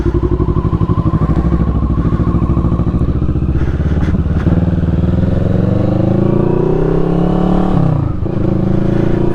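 Stock exhaust of a 2021 Indian Scout motorcycle, heard loud and close throughout: a steady low throbbing idle and rumble that swells into revving, with harmonics sweeping upward near the end, with no talk over it.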